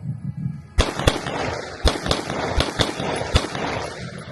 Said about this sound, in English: You may fire when ready.